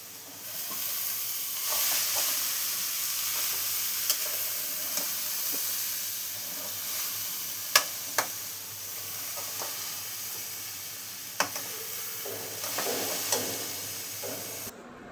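Food stirred in a pan over a high flame, a long continuous sizzle and hiss with occasional sharp clinks and scrapes of the spoon against the pan, ending with a sudden drop.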